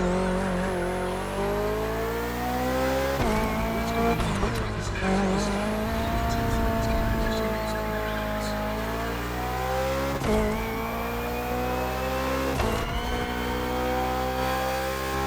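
BMW Hybrid V8 race car in The Crew Motorfest, its engine droning loud and steady with rising and falling revs through gear shifts, brief tire squeals at corners, and no talking over it.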